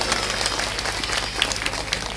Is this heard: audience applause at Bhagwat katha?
yes